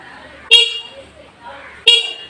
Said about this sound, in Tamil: இந்த ஹார்ன் சவுண்ட் பாருங்க கைஸ்